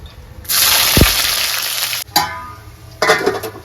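Dried red chillies, whole cumin, cinnamon, cardamom, bay leaves and chopped onions hit hot oil with a loud sizzle, followed by two shorter bursts of frying hiss as more goes into the pan.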